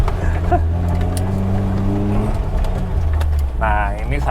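A car on BF Goodrich KO2 all-terrain tyres revs its engine while off-roading, a loud, close, rising drone that climbs in pitch and then drops, with outdoor noise around it and a brief vocal sound near the end.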